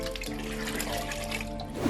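Milk pours from one metal drum into another at the start of a workday making mishti doi yogurt, a continuous close gushing and splashing of liquid with a faint ringing tone and no speech.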